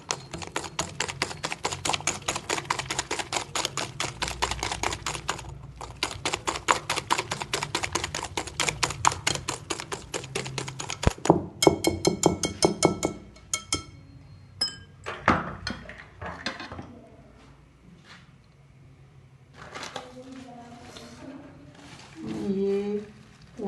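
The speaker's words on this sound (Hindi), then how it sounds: "दूसरा अंडा है, वो डालने लगी हूँ। इसको अच्छी तरह बीट करना है।" Eggs being beaten in a bowl while making cake rusk, a fast, steady run of close clinking whisk strokes against the bowl that breaks off, then gives way to scattered knocks and handling sounds.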